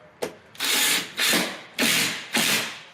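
Coarse 1.5-inch screws driven into a water-damaged bathroom subfloor by a power driver, four loud whirring bursts of about half a second each, close up, separated by short pauses.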